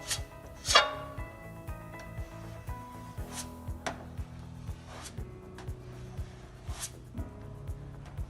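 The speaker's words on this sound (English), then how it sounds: "So you want to take a putty spatula that's clean, and you just apply it over the surface." A clean putty spatula spreads body putty over a dent in a panel, giving a series of short scraping and tapping strokes at a steady, close rhythm against a low background hum.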